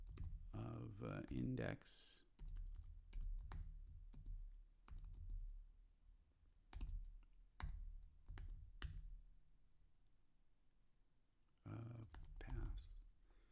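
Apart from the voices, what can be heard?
typing on a computer keyboard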